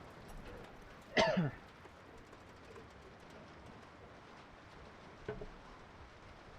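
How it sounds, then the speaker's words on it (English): A single short cough bursts out near the mic over quiet room noise, followed a few seconds later by a fainter second sound. "I'm about to cough."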